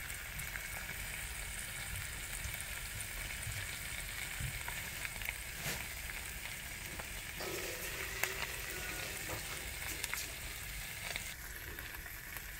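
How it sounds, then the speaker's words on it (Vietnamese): Eggs sizzle and crackle steadily in a hot pan, a close, continuous frying hiss with occasional pops and faint utensil clicks. "Từ trứng gà ốp la giờ thành trứng gà chiên luôn mọi người."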